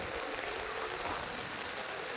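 Heavy rain pouring since dawn at a riverside ferry ghat in Nainan, Falta, South 24 Parganas, a steady dense broadband hiss with no breaks, close and fairly loud throughout.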